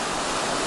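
A big, chalky-looking McCloud River flowing near Mount Shasta, heard from a crossing on the Pacific Crest Trail as a loud, steady, close rush of water with no pause and no voices.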